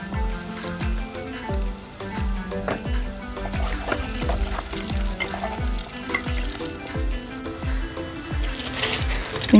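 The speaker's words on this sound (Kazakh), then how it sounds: "Енді 2-ші партиясын тағы да осылай қуырып аламыз" Eggplant pieces fry in hot oil in a second batch, a busy, loud sizzle with crackling bursts and repeated stirring scrapes falling in a rough rhythm, close up and with no talking.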